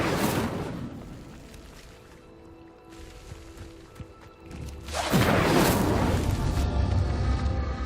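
The Incendio fire spell lights pyres in Hogwarts Legacy: a loud whooshing flare at the start, a quieter stretch, then a second, bigger burst of fire that keeps roaring steadily to the end.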